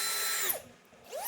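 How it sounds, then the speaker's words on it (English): A power drill bit enlarges the bolt holes of a motorcycle mirror for a Cfmoto 675ss, a loud, steady whine that dips briefly mid-cut and then surges back, with no talking. "You're just using the drill bit."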